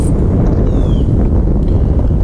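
Heavy wind buffeting the microphone while riding a 2019 Kawasaki Vulcan S ABS motorcycle toward Fort Island Gulf Beach, a loud constant roar filling the whole stretch with no speech.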